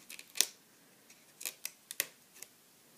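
Red backing being peeled off strong double-sided sticky tape for paper crafts, heard as a few sharp, crisp crackles and ticks scattered across a quiet moment, close up and fairly soft.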